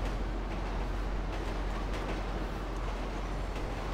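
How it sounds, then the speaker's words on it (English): A train rolls past in GTA 5 with a loud, continuous low rumble and rail noise that holds steady from start to finish, and no voices are heard. "Oh, the train!"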